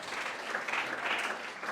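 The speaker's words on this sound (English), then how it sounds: "So big applause for Paula." Faint, steady clapping from an audience for a pitch competition winner, a short continuous wash with no voices over it.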